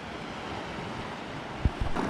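Mediterranean waves wash against a rocky shore along a coastal path near L'Escalet and Saint-Tropez, a steady rushing surf under wind, with a few sharper splashes near the end.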